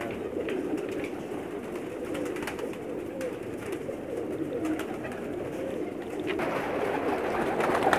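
Sialkoti pigeons coo softly in a loft, low murmuring calls layered over a steady background hum with faint rustles and taps, no talk.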